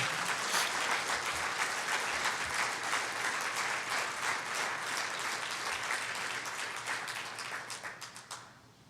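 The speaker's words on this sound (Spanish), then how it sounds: "Dale una ofrenda de palmas por este amor eterno." Church congregation applauding together, a dense steady wash of clapping that thins into scattered individual claps before stopping.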